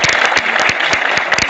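Applause for someone speaker taking the stage at a national seminar, a short, dense burst of clapping from an indoor audience, loud and steady, with sharp individual claps standing out.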